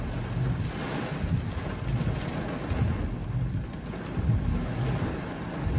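Steady rain and gusting wind outdoors fill the clip with a dense, continuous roar, close and fairly loud, with no talking.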